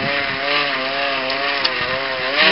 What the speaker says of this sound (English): You'll just climb on, start pedaling.